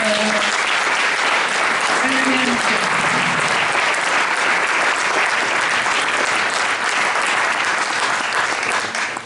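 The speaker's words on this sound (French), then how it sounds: "je voudrais applaudir les femmes de la liste" An audience at an end-of-campaign election rally in Tulle claps loudly and continuously, a dense wash of applause with a voice briefly heard over it at the start.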